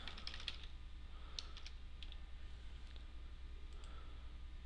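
Quiet clicking keystrokes on a computer keyboard come in short, irregular bursts over a low background hum as a name is typed into office software.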